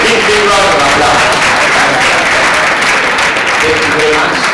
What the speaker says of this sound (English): Just give me a big round of applause.